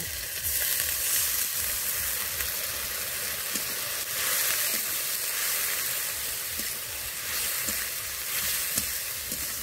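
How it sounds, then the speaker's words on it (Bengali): Ginger, garlic and green chilli paste fries in a pan with a steady, dense sizzle that holds evenly throughout, with no voices. "আদা রসুন দিয়ে কিছুক্ষণ ভেজে নেব।"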